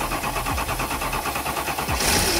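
Mercedes S-Class engine being started after sitting unused for a year, a rough churning crank and idle with rhythmic pulses, ending in a louder surge as it catches.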